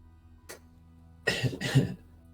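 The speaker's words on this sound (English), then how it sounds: "I'm dying, remember, that's why I'm coughing" A person coughs in a quiet room during a tabletop role-playing game session: one brief cough, then a pause, then two heavier throaty coughs close to the microphone.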